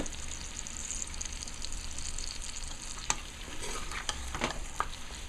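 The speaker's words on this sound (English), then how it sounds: "It's all frying up with all this seasoning and the carrot and everything." Cassava, carrot and seasoning for Guyanese pepperpot fry in a pot with a continuous close sizzle, broken by a few sharp stirring scrapes and pops, and nobody speaks.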